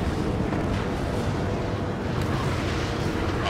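Deep rumbling roar of the massive Arsenal Bird aircraft exploding and burning in Ace Combat 7, a dense sustained low boom without a break.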